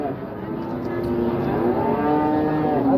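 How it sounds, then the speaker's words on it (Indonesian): A Belgian cow moos in a long, loud, wavering low call at a cattle market, close by, with market noise around it. "Unik sapi ini. Belgia terkecil dunia ini."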